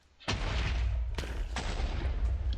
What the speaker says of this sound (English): The actual answer is it's a wither boss trapped in a Tinker's Construct smeltery.